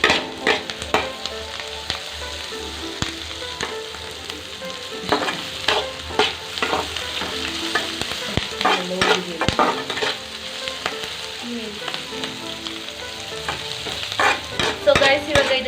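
Onions and garlic sizzle loudly in a pan while being stirred, with a busy crackle and repeated scraping strokes close by throughout, no talking over it.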